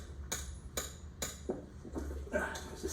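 A hammer strikes an anvil floating in a pool of mercury, giving four sharp metallic taps about half a second apart, fairly quiet and close, with faint background noise.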